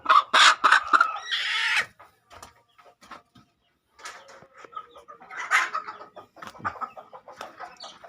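Country hens near Chavara, Kollam, clucking loudly in a dense cluster of calls for the first two seconds, then softer scattered clucks and short cackles follow, with no voices.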